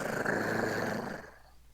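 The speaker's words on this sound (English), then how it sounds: "just a low growling sound." A low, rough growl, close and loud, rumbling steadily before fading out near the end, with no speech.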